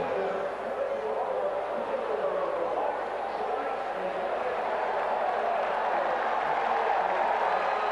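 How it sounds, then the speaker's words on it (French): A large crowd cheers steadily at the 2006 IROC race at Texas after a crash, as driver Steve Kinser climbs from his car unhurt; a broad, sustained roar of voices with no distinct words. "les acclamations de la foule qui doit voir Steve Kinser sortir de sa voiture indemne"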